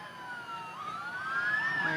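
An emergency vehicle siren wails at a Christmas parade, a faint rising and falling electronic tone sweeping upward, heard from a distance for a couple of seconds.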